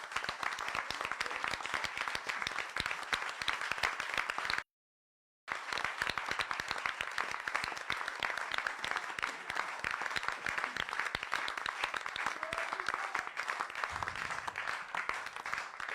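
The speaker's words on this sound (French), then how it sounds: "Je crois qu'on peut collectivement les applaudir." An audience at a 2020 municipal election-night gathering applauds the people who ran the vote, long sustained clapping from a crowd with a brief gap, then continuing steadily.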